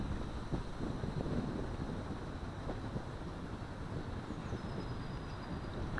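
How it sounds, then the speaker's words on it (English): Strong wind roars steadily across the microphone outdoors, a dense, constant broadband rush with gusty low-end buffeting and no pauses throughout. "Wow, that's a strong wind."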